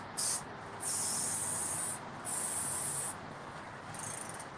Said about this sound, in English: I'll just actually just spray at the freewheel here. And I'm trying to cover the entire chain with this.